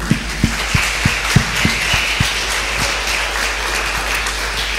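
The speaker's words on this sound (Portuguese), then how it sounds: "salve de palmas para a Érica também" A congregation applauds for Érica before her testimony, with steady clapping over a low hum and a few sharp, close individual claps standing out at the start.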